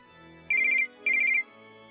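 Electronic telephone ringtone trills in two short warbling bursts with a pause between, clear and close against quiet background music.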